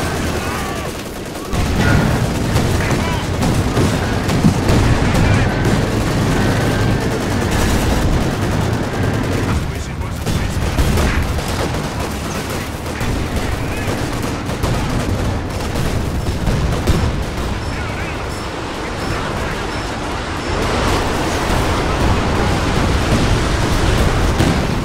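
Sustained video game battle barrage with artillery fire, booming blasts and rattling gunfire layered into a dense, continuous roar that runs loud for the whole stretch with no clear pauses.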